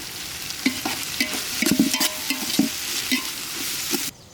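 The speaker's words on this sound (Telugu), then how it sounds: "కాస్తంత ఉప్పు వేసుకొని కలుపుకుందాం." Mint, coriander and salt frying in a pan while a spoon stirs them, giving a close, steady sizzle broken by regular scrapes and clinks that stop abruptly near the end.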